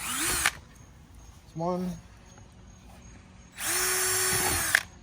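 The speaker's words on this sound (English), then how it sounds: "use the 3/16 drill bit first. Put it right into dimple." A power drill boring a 5mm hole with a 3/16 drill bit into a dimple on a Jeep Wrangler tailgate panel, two close loud whirring bursts with a brief spoken count between them.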